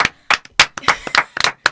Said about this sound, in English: I'm doing a slow clap for you.